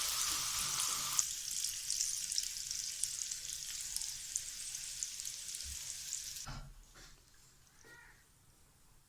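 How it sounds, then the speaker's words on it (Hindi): Onions fry lightly in a pan with a bright steady hiss that cuts off abruptly, leaving near silence with a few soft clicks afterward. "जैसे हमने शिमला मिर्च को लाइट सा फ्राई किया वैसे ही हमने प्याज को भी लाइट सा फ्राई करना है"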